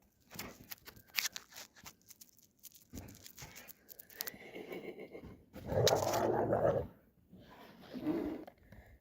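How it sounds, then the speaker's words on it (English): Dogs romp in snow on a winter off-grid homestead, with scuffling, crunching and tearing sounds in uneven bursts, growing louder and rougher toward the end as the play turns to growling. "Snow dogs."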